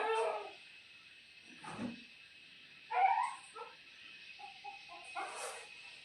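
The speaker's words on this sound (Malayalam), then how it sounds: "നായ്ക്കുട്ടികൾ അവിടെ ഒച്ച ഉണ്ടാക്കുന്നുണ്ട് അവിടെ" Small puppies on a goat farm whimper and yip in short, thin bursts, a few high cries scattered over several seconds against a quiet background.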